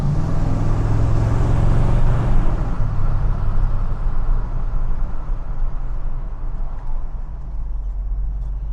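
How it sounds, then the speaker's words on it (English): A 1970 Chevrolet El Camino with a 350 V8 idles at the roadside, a steady low rumble with a slight lope that continues evenly throughout, with some wind and road noise fading early on. "Gonna pull over and kind of listen to the idle a little bit."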